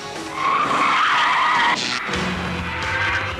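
A Tesla Roadster's tyres squeal loudly as the car skids through a corner, a sustained close screech over engine and road noise with no talking.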